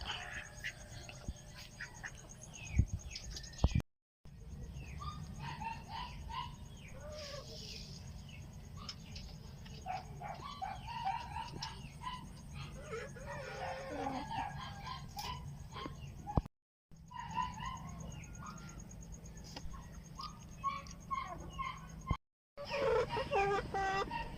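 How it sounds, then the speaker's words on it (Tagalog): Native chickens feed on malunggay leaves, rice bran and commercial feed outdoors, clucking and chirping in frequent short calls from several birds, with insects buzzing and steady rustling and pecking noise throughout. "So ngayon, yan ay ipapakain muna natin sa ating mga lagang manok."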